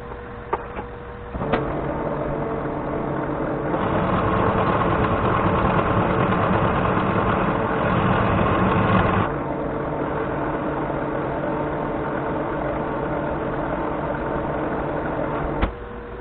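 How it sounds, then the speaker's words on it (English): A manual lathe turns down a workpiece for single point threading, giving a steady mechanical hum with a few sharp clicks near the start and end and a louder, rougher stretch in the middle where the cut is taken. "I'll turn that down and then we'll start over"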